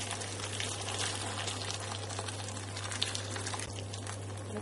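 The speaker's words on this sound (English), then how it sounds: "Cover with water, boiling water from the kettle." Boiling water from a kettle is poured over pumpkin chunks in a pan, a faint, steady splashing rush under a low background hum.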